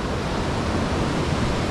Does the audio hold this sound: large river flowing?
yes